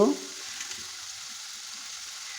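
Spices frying in a pan for a fish curry with potato and green tomato, a soft steady sizzle after a brief voice at the start, then continuing alone at low level.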